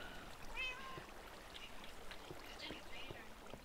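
A cat meows once, short and faint, in the Minecraft game inside a house, followed by soft ambient game noise with no speech.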